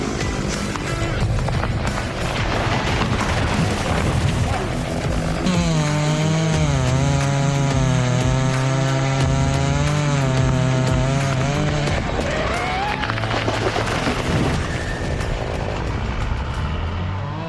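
A Husqvarna chainsaw roars steadily throughout while logging, its pitch wavering as it bites into and cuts through wood, loud and close with no pauses.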